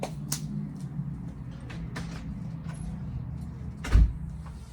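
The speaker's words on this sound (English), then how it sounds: "Trying to close the front door" A front door is pushed and closed, with several sharp knocks and scrapes scattered over a low rumbling background and one heavier thud near the end as it shuts, close by and without speech.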